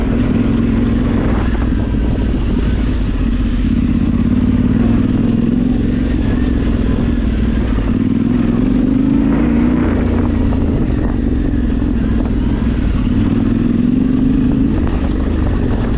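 A Husqvarna Norden 901 motorcycle ridden off-road gives a loud, continuous engine drone with a low rumble that holds steady throughout, and no talk over it.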